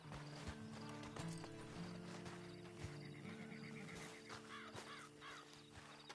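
Horse hooves clip-clop steadily beneath a busy game soundtrack, with a horse whinnying and crows cawing in the background, from the video game Red Dead Redemption 2.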